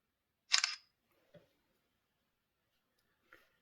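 A single sharp shutter click from the front camera of an Infinix Hot 40i phone taking a picture, close and clear in a quiet room, followed by two faint small taps.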